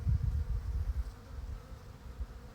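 Bees buzz outdoors in springtime with a low, wavering drone that swells and fades as insects move close by, heard alone without voices.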